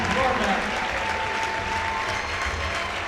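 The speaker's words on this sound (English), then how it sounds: "Everybody's applauding everybody here." A crowd at a girls' basketball region championship between Kindred and Northern Cass applauds, a dense continuous patter of clapping with cheering voices mixed in throughout.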